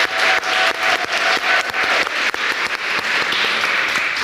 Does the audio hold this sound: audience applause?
yes